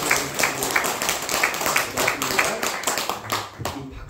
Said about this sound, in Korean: 우리 성가대 모든 분들에서 박수 한번 쳐주세요